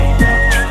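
A referee's whistle at a football tournament match, a single steady, loud pitched blast lasting under a second over crowd and field noise.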